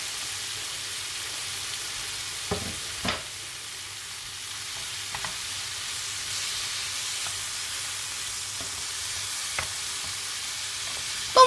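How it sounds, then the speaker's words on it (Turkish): Chopped vegetables softening in a hot pan, a steady low sizzle with occasional scraping stirs at irregular intervals, close but fairly quiet, no voices. "Tekrar karıştırıyorum ve sebzelerimi yumuşaması için bir süre bekletiyorum."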